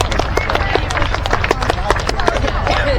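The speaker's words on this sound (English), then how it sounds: "Big round of applause for one of our top 5 winners." Crowd applause at an outdoor hot rod, street rod and custom car show in Cornwall, a dense steady patter of many hands clapping close by, with talk mixed in.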